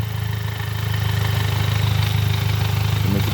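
A DSG7 dual-clutch gearbox on a test bench, run without its mechatronics unit, spins in first gear with a steady, loud mechanical whir and hum that holds constant throughout.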